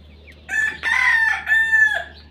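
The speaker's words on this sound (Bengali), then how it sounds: "মোরগের ডাক শোনা যাইতেছে" A rooster crows among hens at a backyard chicken coop in rural Bangladesh, one drawn-out cock-a-doodle-doo in three clear, loud, close rising and falling phrases, alone over quiet surroundings.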